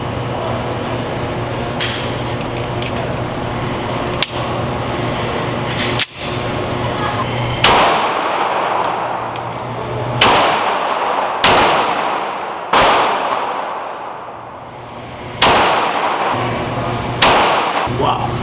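Sharp, loud shots from a Beretta M9 pistol at an outdoor shooting session, about six reports fired at irregular intervals, each with a short ringing decay over a steady background hum.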